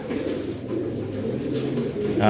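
Low repeated cooing from a breeder pigeon, close and steady over a brief moment, set against a faint background hum.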